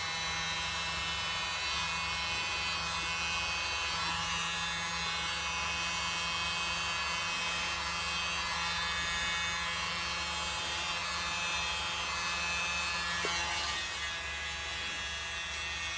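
A small handheld blower runs continuously on wet paint, giving a steady, fairly quiet airy whir that holds throughout with no breaks.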